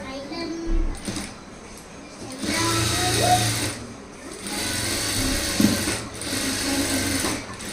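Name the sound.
sewing machine stitching a blouse piece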